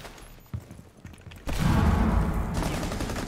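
Rainbow Six Siege gunfire: a single shot, then loud, sustained rapid automatic fire that fills the rest of the moment, close and dense.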